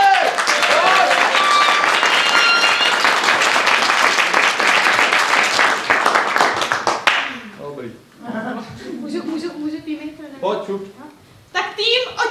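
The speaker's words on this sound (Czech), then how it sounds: "jak nejvíc umíš tleskat, pojď." Loud, dense applause and clapping from an improv-theatre audience fills the space for several seconds, then breaks off into speech and scattered noise.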